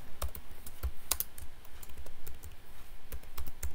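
Quick bursts of typing on a computer keyboard, close and crisp, with irregular clusters of key clicks and short pauses between them and no talking.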